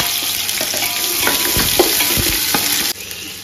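Chopped onion frying in hot oil in a pan for chicken pulao, a loud steady sizzle with a few stirring knocks, dropping abruptly near the end.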